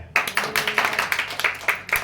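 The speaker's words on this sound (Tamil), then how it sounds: "கைதட்டுங்க." An audience claps along during a Tamil Sunday church sermon, a dense burst of many hands striking in a quick, uneven rhythm, fairly loud and close.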